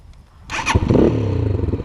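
A Geon Scrambler 250 motorcycle with 12,000 km on it starts up: a short starter whir and catch, then the engine settles into a steady, close, loud idle.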